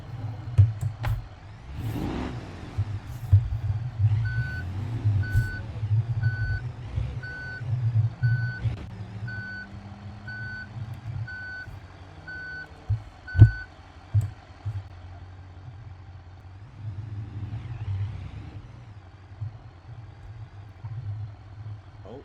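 Intermittent reversing beeps from a truck backing up to a trailer in the BeamNG driving game, a steady pulsed tone over a continuous low engine rumble, with some revving and clunks, no talk.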